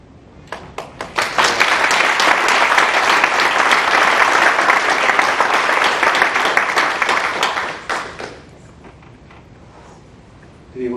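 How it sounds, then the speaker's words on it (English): An audience claps for Dr. Rick Bedlack after an ALS research update talk, the applause building quickly into a loud, sustained ovation for several seconds before trailing off into a quiet room, with a few claps returning at the end. "another round of applause for the wonderful Dr."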